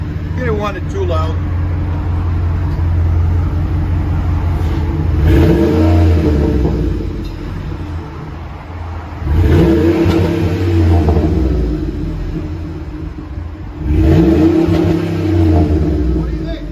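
Ford Expedition XLT with a 5.4L V8 and a Vibrant muffler revs three times in rising, swelling bursts over a steady idle rumble, with voices talking nearby.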